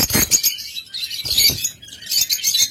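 A pair of lovebirds gives quick, shrill chirps in close, loud clusters with short gaps between them.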